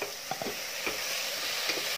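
Onions and garlic sizzling and frying in a pan for Moroccan brown lentil soup, a steady close hiss with a few soft stirring scrapes.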